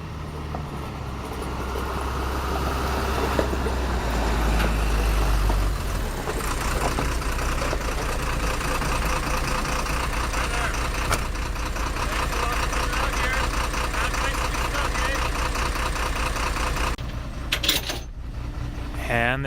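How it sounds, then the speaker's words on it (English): Truck engine rumbling as it approaches in the wilderness at night, settling into a steady idle with a dense mechanical drone, with voices talking over it. "I hear the sound of a truck"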